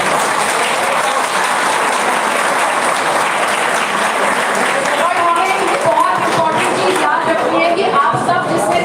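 Sustained audience applause at a Stand Up event on violence against women, a dense, even wash of many hands clapping close by that carries on steadily from start to finish.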